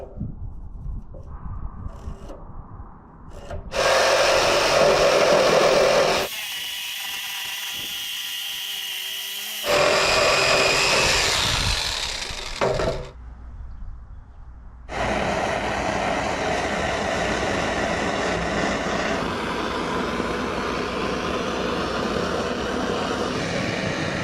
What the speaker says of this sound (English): We're using a propane torch here.